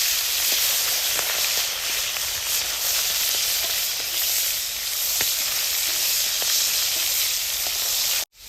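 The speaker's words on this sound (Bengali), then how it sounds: "কেটে রাখা মাছের মাথাগুলি দিয়ে দিব। তেলের মধ্যে ভাজে দিব।" Salted hilsa fish heads fry in hot oil with a steady, loud, dense sizzle that runs unbroken for about eight seconds and then stops abruptly. Faint scattered pops sit inside the hiss, and no one speaks.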